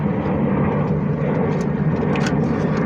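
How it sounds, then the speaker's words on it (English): A loud, steady airplane engine roar fills the scene near Sky Harbor airport, a close, broad drone that holds steady throughout with no voices. "y'all probably still can't hear me because of the plane"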